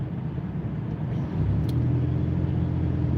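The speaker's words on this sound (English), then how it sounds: "traffic." Heard from inside a vehicle on a Midwest city road, traffic makes a steady low rumble of engines and tyres, loud and constant with no breaks.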